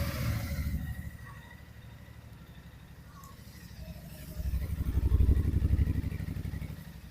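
A Royal Enfield Bear 650 motorcycle engine starts and settles into a steady idle, the low throbbing rumble swelling louder toward the end, close by with no talk.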